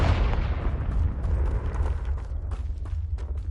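A Confringo blasting spell in a Harry Potter video game erupts into a loud, sustained rumbling explosion with a booming low end and crackling debris, steady and dense throughout.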